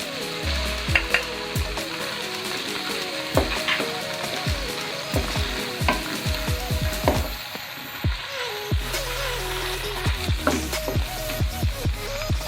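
Garlic and ginger fry in a karahi with a lively crackling sizzle, punctuated by frequent scraping and knocking of a spoon against the metal, close and fairly loud throughout, with no speech.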